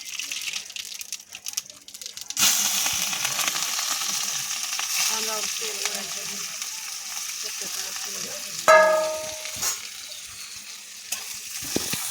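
Onion frying in hot oil for poha makes a continuous close sizzle that starts abruptly and holds steady, with a brief louder burst partway through.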